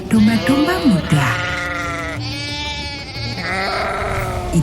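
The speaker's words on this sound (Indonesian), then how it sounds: "Langkah kaki domba-domba di bebatuan bercampur dengan suara mengembik domba-domba muda" Young sheep bleat in wavering cries over a steady background, with several calls close by while a narrator speaks throughout.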